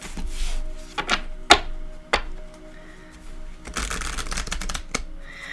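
Tarot cards are shuffled in several quick riffles and taps, with soft rustling and handling sounds between bursts, close up.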